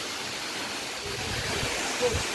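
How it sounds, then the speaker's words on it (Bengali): Khandadhar waterfall drops about 100 feet in a misty setting, making a steady, broad rushing roar heard from a distance with no clear breaks. "জলটা এত উঁচু থেকে পড়ছে"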